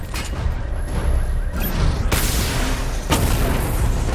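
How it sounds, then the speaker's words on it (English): Batmobile in tank mode in Batman: Arkham Knight fires a missile barrage, a dense run of loud booms and blasts, with two sharp bursting impacts standing out over a continuous rumbling roar. "Missile barrage level 1 ready."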